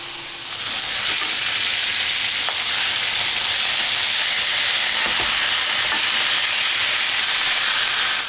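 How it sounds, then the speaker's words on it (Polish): Pork neck sizzles steadily in a hot frying pan, a loud continuous hiss and crackle that starts abruptly and holds without pause. "W czasie, gdy karkówka się nam smaży na patelni"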